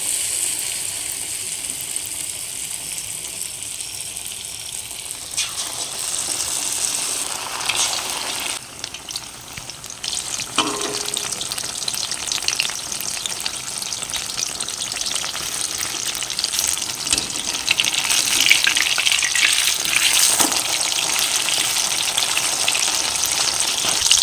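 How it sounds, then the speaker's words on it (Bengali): Batter-dipped tomato pakoras fry in hot oil over a medium flame, giving a steady, close, crackling sizzle that runs the whole time and swells slightly toward the end, with no talking. "টমেটোর পকোড়াগুলো মিডিয়াম ফ্লেমে 3-4 মিনিট ভেজে নিয়েছি।"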